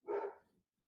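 A dog gives a single short bark, muffled and faint, from outside a closed room door, with quiet all around it.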